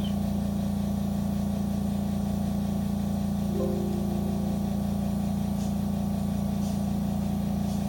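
An air compressor runs steadily throughout, a continuous loud motor hum with a constant low drone and no pauses; no one talks.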